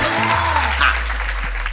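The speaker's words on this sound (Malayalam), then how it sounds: "കയ്യടി" Audience applause on a travel game show after a team's win, a brief burst of loud, steady clapping over a low hum and a faint voice.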